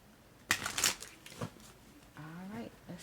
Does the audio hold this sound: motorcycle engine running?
no